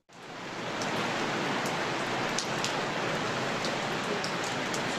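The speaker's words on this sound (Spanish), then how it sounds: "Sonido de la lluvia." Heavy rain starts suddenly and falls without a break, a dense, even hiss of drops with faint scattered ticks on top, loud and close.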